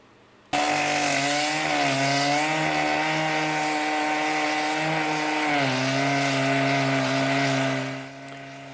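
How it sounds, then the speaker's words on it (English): A loud old chainsaw roars continuously for several seconds cutting a large log, its engine pitch dipping and recovering as it cuts, close by, before easing off at the end. "These old chainsaws are loud."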